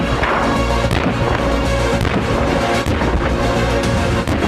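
A new standard rifle with heavy recoil firing in a video game, loud, dense booming shots blending into a continuous barrage over game music.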